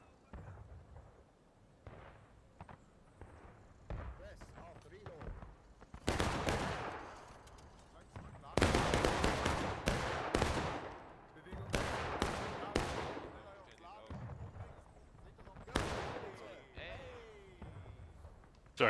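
Musket volleys crash out in a War of Rights battle in a forest stream setting with hundreds of players, heavy ragged bursts rolling in waves between quieter gaps, with voices talking underneath.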